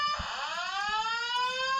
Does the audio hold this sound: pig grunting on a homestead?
no